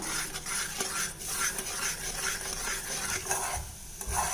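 A spoon stirs steadily in a pan of boiling milk powder mixture for burfi, scraping rhythmically while the mixture bubbles and sizzles underneath.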